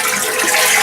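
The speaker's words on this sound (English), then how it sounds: "and then flush the toilet." A toilet flushes after its water supply valve has been shut off, giving a loud, close rush of water that stays strong and steady through the brief moment.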